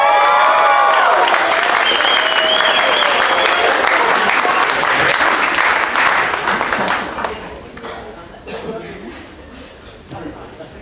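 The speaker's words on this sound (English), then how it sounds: "Round of applause for both of their awesome vows" Loud crowd applause and cheering at a wedding ceremony after the couple's vows, full and enthusiastic at first, then gradually thinning out, with voices mixed in.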